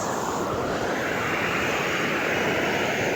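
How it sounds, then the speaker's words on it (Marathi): Flowing water rushes loudly and continuously beside a village road in Borsut, Konkan, during an evening bicycle ride, a dense, unbroken roar with no voices. "प्लस पाण्याचा आवाज बघा कसा येतोय"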